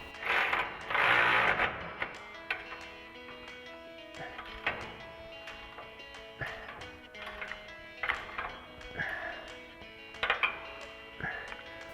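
A ratchet with an 18mm socket tightens truck bumper mounting bolts on a 2021-2023 F-150 Elevation front bumper, giving bursts of rapid clicking with metallic clinks and pauses in between.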